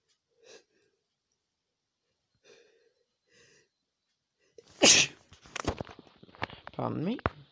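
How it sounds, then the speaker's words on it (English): A man lets out a sudden, explosive sneeze after a few faint sniffs and quiet sounds, followed by rustling and short breathy noises. "Pardon me. Explosive sneezing."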